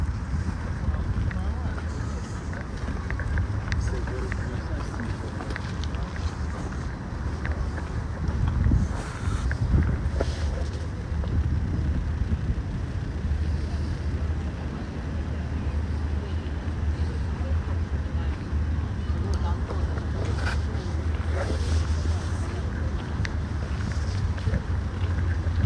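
Strong gusty wind buffeting a microphone on Moscow's Old Arbat Street, a continuous low rumble with surging gusts under someone talking throughout.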